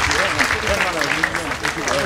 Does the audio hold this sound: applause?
yes